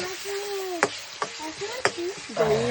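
A ginger, garlic and coriander paste frying in hot oil, with a continuous sizzle under a few sharp spoon knocks and stirring scrapes, heard close up while a voice talks over it.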